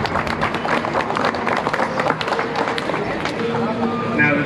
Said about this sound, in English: Please show them a huge round of applause